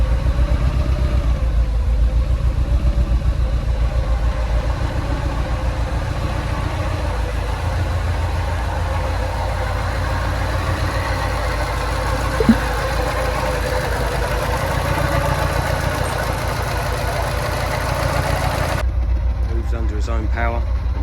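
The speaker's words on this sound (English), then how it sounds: "the customer wanted to see it run, start off its own power, and it runs sweet" A Lancia Delta HF Integrale, a long-stored barn car, idles steadily after its first start in years, a loud continuous low engine drone that cuts off sharply near the end.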